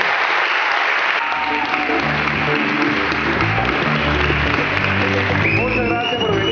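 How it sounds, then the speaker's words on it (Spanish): Sustained applause from a festival audience in Mérida, Venezuela, dense and steady throughout, with occasional voices and a whistle rising from the crowd. "le haré llegar todos estos aplausos que ustedes están dando"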